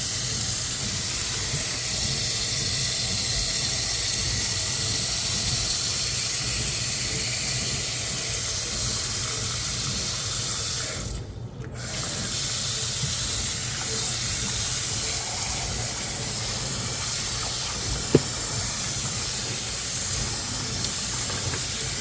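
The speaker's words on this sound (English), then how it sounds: "Let's wash these off again before we marinate them." Tap water runs over cut steak pieces in a sink as they are rinsed before marinating, a steady close hiss and spray that briefly stops near the middle and then continues.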